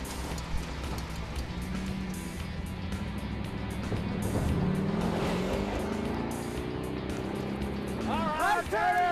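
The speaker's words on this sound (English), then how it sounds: "This Humvee has a ton of power." A Humvee engine drones steadily while driving off-road, the motor rising in pitch as it pushes on, with people talking and shouting over it throughout.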